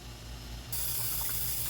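Water rushes and splashes steadily as cut taro root pieces are rinsed in a bowl or sink, the flow growing louder and brighter partway through and continuing close up without talk.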